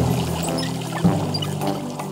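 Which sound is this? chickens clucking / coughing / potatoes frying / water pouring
water pouring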